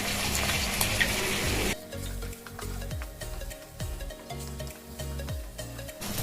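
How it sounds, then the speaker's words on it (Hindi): Loud sizzling of ginger-garlic paste hitting hot oil with browned onions bursts out at first, then eases into softer frying crackle with a few stirring scrapes. "अब हम डालेंगे 1 चम्मच अदरक लहसुन।"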